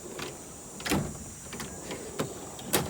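A Matco tool box drawer slides open and shut in a garage, giving several short, sharp metallic rolling rattles spaced about half a second apart over a faint steady hum, with no talking.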